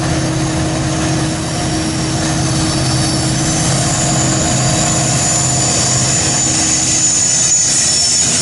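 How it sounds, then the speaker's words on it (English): Freight train 63V rolling west onto the Harrisburg line at CP Wyomissing in Pennsylvania, a steady loud rumble of wagons and wheels with faint flange squeal throughout. "63V heading west with trash."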